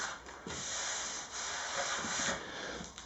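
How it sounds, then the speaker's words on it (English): A belt sander smooths the top of a wooden pedestal dining table with a continuous abrasive hiss and rub, rising and dipping slightly as it passes back and forth, close and steady without talk. "So I can use a belt sander along here to smooth everything off."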